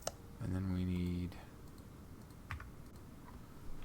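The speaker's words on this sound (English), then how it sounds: "If I can type." Computer keyboard keys tapped while entering parts in Car Mechanic Simulator 2021: a few faint clicks sit under a steady game hum and a brief loud electronic tone near the start.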